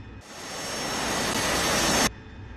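The roar of an AV-8B Harrier jet engine in the DCS flight simulator, holding a hover over a ship's deck, comes in abruptly as a loud, steady broadband rush that swells slightly and then cuts off sharply.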